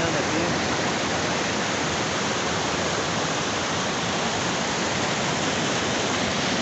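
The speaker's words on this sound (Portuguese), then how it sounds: "Cachoeira do Nilo aqui, ó." Waterfall at Cachoeira do Nilo in Bom Jesus do Pirapitinga, a steady, dense roar of falling water that fills the whole clip at constant loudness, close by, with no voices over it.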